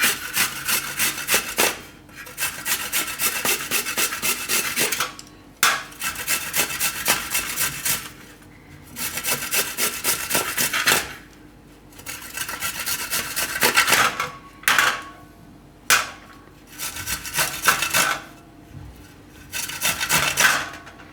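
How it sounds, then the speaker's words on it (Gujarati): Amla (Indian gooseberries) are rubbed over a kitchen grater in long, close, rhythmic rasping strokes that repeat steadily with brief gaps as the fruit is repositioned. "તો પહેલાં આપણે આંબળા છે એને આપણે છીણવાના છે"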